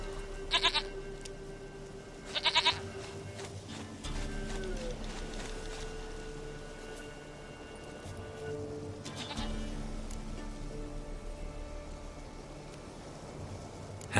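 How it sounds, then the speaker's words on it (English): A goat in the video game The Witcher 3 gives a few short, separate bleats over a steady ambient game background. "Goat of mine, dearest, sweetest goat."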